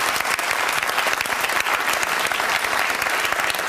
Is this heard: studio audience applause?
yes